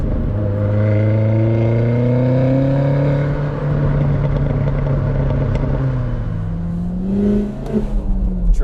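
All-wheel-drive Mini Paceman JCW tuned to 500 horsepower, accelerating hard on a winter road; a loud, steady engine note climbs in pitch through the gears, with a shift and a few clattering bursts near the end.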